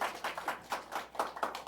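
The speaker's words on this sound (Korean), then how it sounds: "박수." A small congregation claps for a visiting pastor at a Sunday church service, a short burst of about seven or eight distinct, fairly close hand claps in a loose rhythm.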